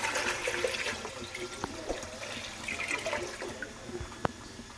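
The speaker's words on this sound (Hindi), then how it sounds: "इसके अंदर डाल दूँगी मैं 1 जग पानी।" A jug of water is poured into a pot sitting on a stove, a continuous splashing, gurgling stream with a few clunks, heard close.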